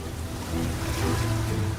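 Powerful rushing water of the Colorado River, a dense, steady roar that swells slightly louder partway through and carries on without any voices.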